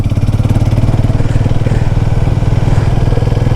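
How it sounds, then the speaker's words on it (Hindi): A Harley-Davidson motorcycle riding through a village road, its engine giving a loud, steady low pulsing throb throughout with no talking. "आज हार्ले का मजा ले रहे हैं हम, रानू भाई की बाइक का।"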